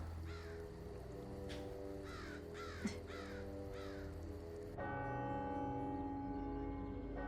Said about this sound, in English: He's got this like big bell tower just to signal to his dogs that it's time to come and eat their whole ass steaks.